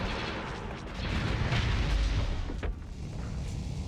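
Space battle explosions in the Starsector video game make a dense, continuous rumble of booms and bursts, loud and overlapping with no clear break between blasts.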